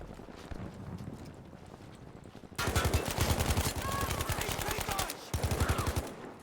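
Heavy automatic gunfire with strong recoil in Battlefield 5, loud close bursts of rapid shots starting partway through, broken by a short pause before another burst, over a windy rumbling background.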